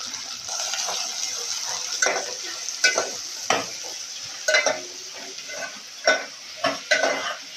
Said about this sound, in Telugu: ఇందులో మనం ముందుగా కట్ చేసుకున్నటువంటి ఉల్లిపాయ ముక్కలను వేసి వేగించాలి